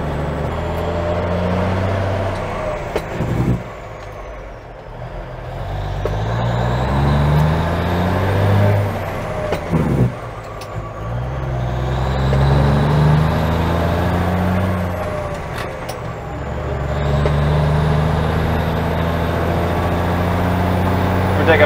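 An old Mack truck with a twin-stick transmission climbs a hill. Its heavy diesel engine drones and rises in pitch through each gear, with clear breaks where the revs drop between two shifts and a sharp air hiss.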